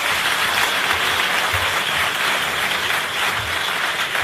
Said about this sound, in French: Il a gagné votre estime et vos applaudissements.